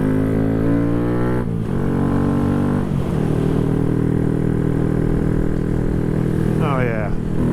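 Honda Grom motorcycle fitted with a high-compression piston, cam and tune, its engine revving and shifting on a test ride, pitch climbing through gears with loud steady drone and wind rush from up close.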